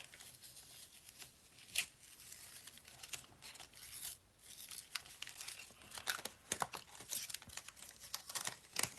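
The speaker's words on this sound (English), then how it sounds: "now we're going to lift off this masking paper" Masking paper lifted from a painted surface crackles and tears in a run of sharp, dry rips and crinkles, fairly close and quiet, with no talking.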